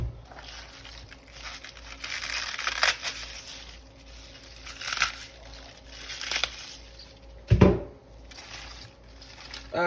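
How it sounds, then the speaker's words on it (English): Hard inner pieces of cabbage are torn off by hand, giving soft, irregular crunching and crackling tears at close range. One sharper, louder snap comes near the end, in a quiet kitchen. "And then there's harder pieces in the inside of the cabbage. I'll go ahead and just rip those off."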